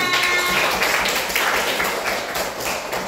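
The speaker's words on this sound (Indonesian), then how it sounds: "tepuk tangan untuk kita semua" A classroom of pupils claps together in a steady, fairly loud burst of applause, with a few voices audible.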